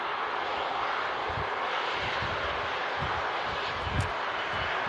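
A Virgin Atlantic Airbus A330 taxis at an airport, producing a steady broadband jet roar at moderate distance with a soft rumble beneath. It holds an even level throughout and no one speaks.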